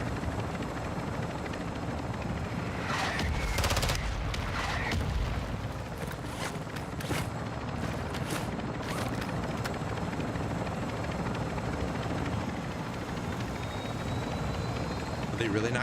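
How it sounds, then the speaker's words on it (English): A helicopter from the video game DMZ drones steadily in the distance, a low continuous rotor hum running the whole time beneath quiet gameplay noises and occasional sharp bursts. "chopper."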